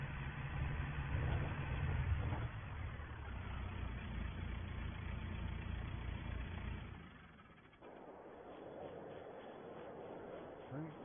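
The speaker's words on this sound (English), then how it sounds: "we can stop the tractor running" A farm tractor engine idles steadily at a distance, a low continuous rumble that drops slightly near the end, with people talking over it.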